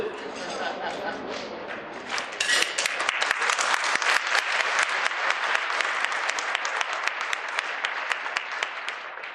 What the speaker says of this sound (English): I appreciate the Southern hospitality, but you ain't got to clap.